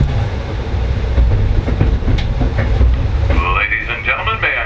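Amtrak Maple Leaf passenger train, train 64, rolling on rails in the business class car between Niagara Falls and Buffalo: a steady low rumble with faint clicking of wheels, a brief high squeal near the end.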